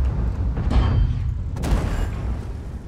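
Tank cannon fire in the World of Tanks video game, with deep booming shots around the midpoint and again near the end over a constant low rumble.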